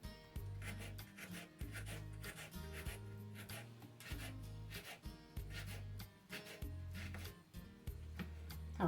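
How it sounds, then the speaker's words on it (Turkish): Carrots sliced thinly with a knife for a diet salad: repeated rhythmic strokes and soft taps on a board, close and steady, with no voices. "şimdi bunları ince ince dilimleyeceğiz havucu"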